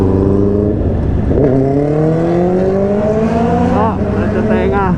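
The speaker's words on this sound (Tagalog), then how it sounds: "Ganun magiging tunog ng aking motor." A loud, close Honda CB650R motorcycle engine revs hard, its pitch sweeping steadily upward with growling harmonics, then wavering near the end.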